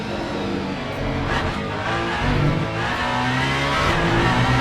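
A race car engine in the Le Mans Ultimate game, heard on board the number 36 car at the 24 Hours of Le Mans, drones loud and close, rising and revving through gear changes.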